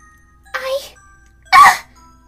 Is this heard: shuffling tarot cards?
no